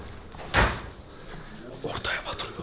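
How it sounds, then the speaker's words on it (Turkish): A door is banged hard in a home, one loud heavy thump followed by a cluster of smaller knocks and rattles, with a voice talking quietly nearby. "Kapıyı kırıyormuş."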